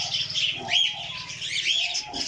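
Birds in a bird shop, parrots and pigeons, a close, busy mix of chirps, squawks and soft cooing calls overlapping continuously, with no talking.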